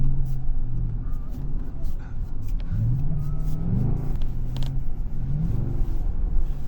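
A work truck sliding in circles around a pole, its engine rumbling and revving steadily up close throughout, with people talking and exclaiming over the engine noise.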